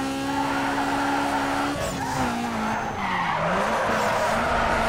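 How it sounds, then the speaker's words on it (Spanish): A car in the racing game Need for Speed Underground 2 slides into a drift, its tires squealing in long, wavering screeches over a revving engine, loud and close for several seconds. "Hace rato que no hacía un derrape."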